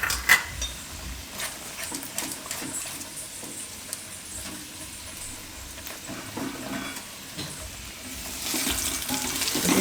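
Potatoes simmering in a dum aloo gravy in a pan as a little chopped green garlic goes in: a steady, soft hiss and bubbling that swells louder near the end, with no voices.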